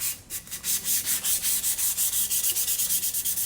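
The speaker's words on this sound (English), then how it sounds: "Take the sandpaper." Sandpaper rubbed back and forth over cups, a close, rhythmic scratching that repeats in quick, even strokes, loud and alone without any voices.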